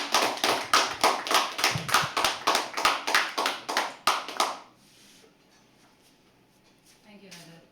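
An audience at a live poetry open mic claps loudly and rhythmically to welcome a performer, steady beats for about four and a half seconds before stopping abruptly, leaving a quiet room.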